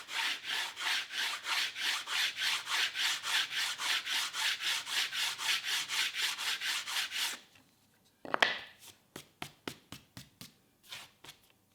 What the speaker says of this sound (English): With a sanding block, I'm going to just clean up that edge